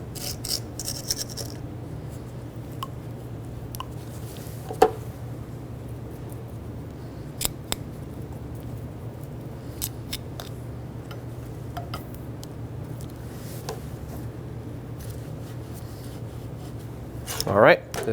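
Scattered clicks, taps and light rubbing as a brake caliper bracket from a 2008-2020 Dodge Grand Caravan rear brake job is cleaned and scrubbed, faint and intermittent over a steady low hum.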